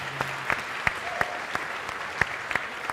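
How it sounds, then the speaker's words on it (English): Audience applause for a startup pitch at the finals of a startup competition, a steady wash of clapping from a crowd with scattered sharper claps standing out, fairly distant and moderate in level. "put your hands together for Exige App"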